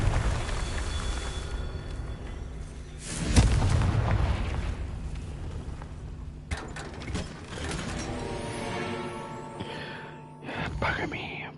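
A Confringo blasting curse going off in Hogwarts Legacy, a loud booming explosion with a rumbling tail amid crackling magical and mechanical effects; whispered speech runs through the clip.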